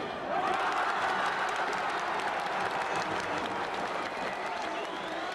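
A baseball crowd at Tokyo Dome roars and applauds in a continuous, dense wash of cheering during a 1996 Giants game, with a commentator talking over it.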